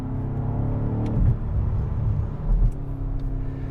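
Engine of a 2024 BMW X5 M Competition SUV, a deep, close rumbling drone with a couple of brief revving swells and pops, steady and without talk.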